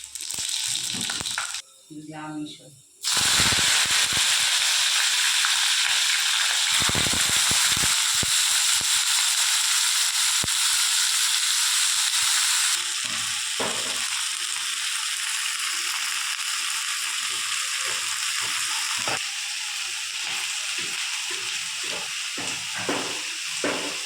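Five-spice tempering dropped into hot mustard oil in a wok, giving a loud, steady close-up hiss with scattered crackles that eases slightly partway through.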